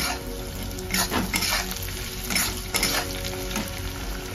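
Grated coconut dry-roasting in a pan for a chicken and mutton masala, with a steady close sizzle and scraping stir strokes that come in bursts every second or so, and no talking.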